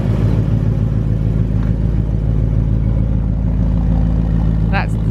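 A 450 bhp Ford Mustang V8's deep, loping engine burble rumbles steadily nearby, rough and throaty, with faint background noise over it.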